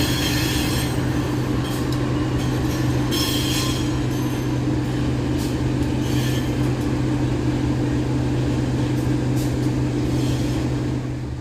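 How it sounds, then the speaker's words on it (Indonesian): A Sumatran diesel locomotive, number 9211, rumbles steadily and loudly close by in Indonesia, with a low engine drone, rattling cars and occasional high squeals from the wheels. "Ini lokomotif Sumatera nih teman-teman"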